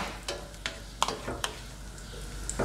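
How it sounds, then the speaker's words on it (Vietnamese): Minced garlic frying in butter in a pan, a soft steady sizzle broken by several sharp clicks and clatters of a utensil stirring against the pan, close and alone. "Và mình phi cho nó thơm lên"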